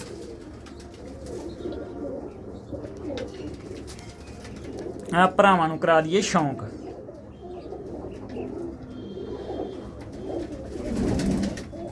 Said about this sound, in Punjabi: ਆਹ ਨੇ ਬਾਈ ਆਪਣੀਆਂ ਉੱਡਣ ਵਾਲੀਆਂ ਕਬੂਤਰੀਆਂ